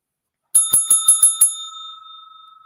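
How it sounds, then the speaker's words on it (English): A bright bicycle-style bell rings six quick, evenly spaced dings, then the last tone rings on and fades slowly. The bell is close and clear, with no talk. "Hello, Mary, the bell, loving it. I love the bell too."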